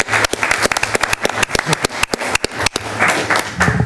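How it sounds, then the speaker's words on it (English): An audience at a school district board meeting gives a short round of applause, with dense, sharp claps close by and little talk. "Applause, please."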